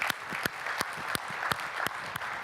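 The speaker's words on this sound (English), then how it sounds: "So a round of applause for the Jamf Nation members." A conference audience at a session on deploying iOS 7 gives a short round of applause, with steady clapping and a few sharper individual claps standing out near the microphone.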